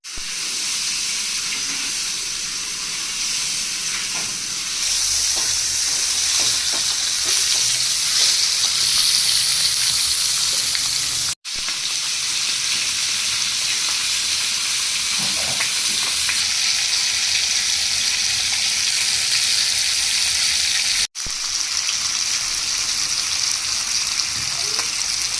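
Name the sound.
tilapia fish frying in a pan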